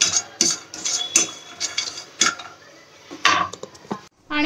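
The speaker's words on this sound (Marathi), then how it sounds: "हे खोबरं मस्तपैकी असं भाजत आहे" Grated coconut dry-roasting in a pan for Konkan-style sukka chicken, with a spatula stirring and scraping in irregular close bursts of clatter between quieter moments.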